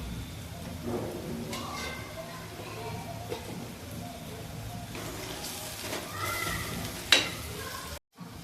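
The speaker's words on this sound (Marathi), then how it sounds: "आता हे सर्व मसाले एकदा चांगले परतून घेते" Spices such as chole masala and chili powder sautéing in a pan for a pea and potato dish, a continuous sizzle with scraping stir strokes, under a voice talking intermittently.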